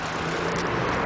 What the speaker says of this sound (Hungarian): az Ecotec motor, ami itt ketyeg benne, és tényleg szépen és csendesen jár ebben az autóban a motor